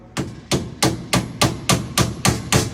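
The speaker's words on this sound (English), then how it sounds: "You can either push it on with your hand or using either the soft faced hammer or" A soft-faced hammer knocks a drawer slide handle into place with nine evenly spaced, fairly loud taps about a third of a second apart, with no voices.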